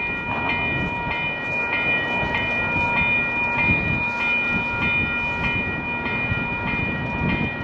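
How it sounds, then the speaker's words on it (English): An Amtrak 338 Hiawatha passenger train passes on a snow-free day with a steady, close rumble that holds for the whole stretch, while thin sustained tones ring above it. "Next is Amtrak 338, another Hiawatha."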